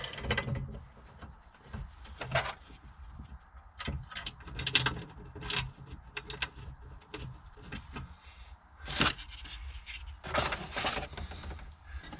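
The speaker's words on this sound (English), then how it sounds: "Let's get these bolts back in." A ratchet tightens bolts on a 2002-era BMW 7 Series (E65/E66), with repeated close clicking strokes in uneven bursts and a few louder metallic clunks between them, no talking.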